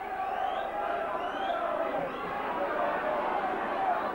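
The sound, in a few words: rugby league match crowd at St Helens v Wigan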